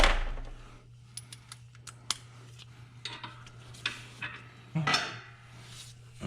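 Metal tools and sockets clink and rattle as someone rummages through them in a workshop during an engine build, with scattered light clanks and one louder clatter over a quiet hum.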